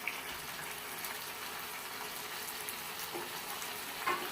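Ground cumin and chilli paste with chopped tomato frying in a pan for a mutton curry, a faint, steady low sizzle with an occasional soft clink, heard alone.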